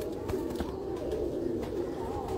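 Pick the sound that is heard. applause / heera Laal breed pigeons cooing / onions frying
heera Laal breed pigeons cooing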